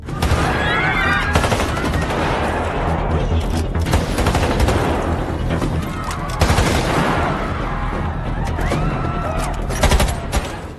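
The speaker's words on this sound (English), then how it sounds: "suddenly, intense gunshots rang out in the mall" Intense, rapid bursts of gunfire crackle continuously in a mall, loud and close, with sharp volleys overlapping amid chaotic background noise.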